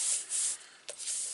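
Light rubbing over a card with rubbing alcohol, soft hissy swishing strokes in a few quick passes, close and quiet, with no talk.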